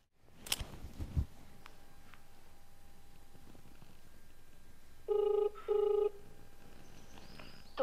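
An unanswered telephone rings in a quiet room, giving two short electronic ring bursts close together near the end after a few faint knocks and a long hush.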